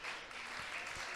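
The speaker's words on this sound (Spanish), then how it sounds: "El que siente ese gozo, expréselo con aplausos a Jesucristo" A church congregation claps together during a Spanish-language sermon, a soft, fairly distant wash of applause with a couple of slightly sharper claps standing out.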